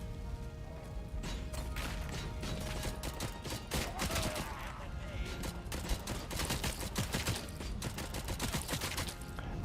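Rapid rattling gunfire in a shooting game, near-continuous volleys and sharp shots at low level throughout, mixed with clanking mechanical game effects.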